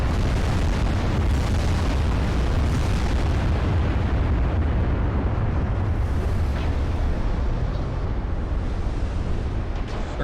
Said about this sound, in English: I am taking fire from 40 ships